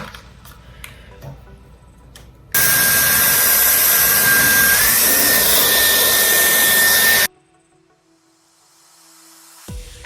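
A Dyson Airwrap hair dryer switches on and blows a loud, steady airy roar for about five seconds, then cuts off abruptly into near quiet.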